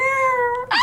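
A cat gives a single loud, close meow, drawn out and tonal, then ending in a brief rough rise.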